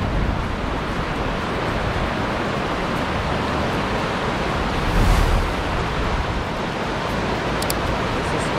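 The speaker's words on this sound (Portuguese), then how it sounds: "Olha o barulho da cachoeira." A waterfall and river rapids rush at a swimming spot in Tomazina, Paraná, a loud, continuous broadband roar with one brief surge midway.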